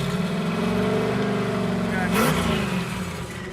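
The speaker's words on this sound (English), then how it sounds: "Go ahead, rev it." Car engine revving with a steady harmonic drone and rising pitch swells, loud and close, on a Datsun being brought back to life after an alternator repair; a voice talks briefly over the engine.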